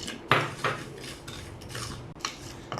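Cumin seeds dry-roasting in a pan for rasam powder, with dry rustling and a few scraping clinks of a spoon stirring against the metal, close and moderately loud, no talking.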